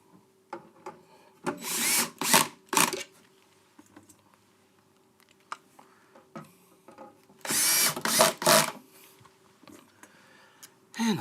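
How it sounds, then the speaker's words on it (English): A power drill drives the last screws into a board low down while fixing up a van, with two loud bursts of whirring, the first around two seconds and a longer one later, separated by quieter handling noise. "Get these last screws in down the bottom."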